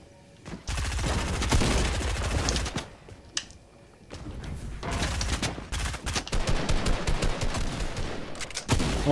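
Shotgun gunfire in a Fortnite match: dense, rapid bursts of loud shots and clattering impacts fill most of the stretch, broken by a brief lull in the middle.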